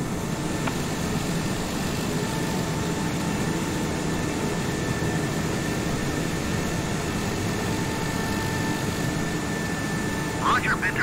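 A Keranga Airways airliner taxis at Mallorca after landing, its engines giving a steady, broad roar with a faint tonal whine that holds for the whole stretch, as voices talk over it.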